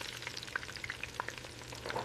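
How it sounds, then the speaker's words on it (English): Steady crackling sizzle of chicken frying in hot oil, with scattered pops and spits over a constant low hum, close and fairly quiet. "Chicken goes into the hot oil. Oh, listen to that beautiful sizzle."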